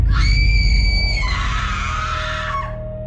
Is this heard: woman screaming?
yes